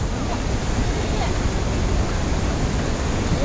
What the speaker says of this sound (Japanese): ここを見るとさ普通の川やもん